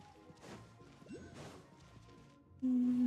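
Pickaxe blows crack against rocks in Genshin Impact, two crashing hits a second apart, then a sudden loud sustained tone cutting in at the end.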